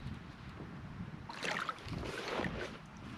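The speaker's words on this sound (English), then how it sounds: "So it's a little windy today." Wind buffets the microphone outdoors at a county park, with low rumbling gusts building into louder rushing bursts over faint background noise.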